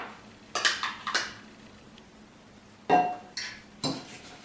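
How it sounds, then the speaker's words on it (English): A spoon stirring salad and citrus dressing in a bowl, giving a few quick clinking and scraping bursts against the bowl, close and moderately loud, separated by short quiet gaps. "Shake up the citrus dressing and we'll add it on, give it a stir"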